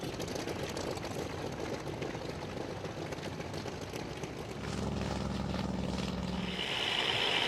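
A WWII Zero fighter plane flying at an air show, its propeller engine giving a steady, broad drone at moderate distance that grows louder and fuller toward the end, with no voices.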